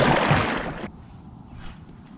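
A paddle stroke on a lake, a loud splashing swish of water for just under a second, followed by quiet lapping and faint ambient sound.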